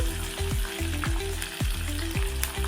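Green chillies, coriander seeds, sesame seeds and curry leaves frying in hot oil for a tomato chutney, a steady close sizzle with repeated stirring scrapes in a regular rhythm, no voices.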